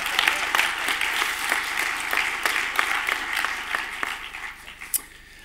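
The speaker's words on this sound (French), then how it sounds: "Mais oui, vous pouvez vous applaudir" A festival audience at a film awards ceremony applauds, a broad sustained wash of many hands clapping in a hall, with a brief cheer near the end.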